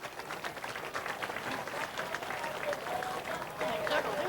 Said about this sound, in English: Hey, let's give them a round of applause.